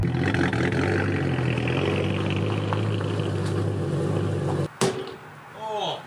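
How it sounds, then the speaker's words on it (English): A race car's engine idles roughly after misfiring, a steady low rumble with uneven harmonics that cuts out abruptly near the end, followed by a brief restart burst and faint whistling tones. "Definitely doesn't sound right, but she is running."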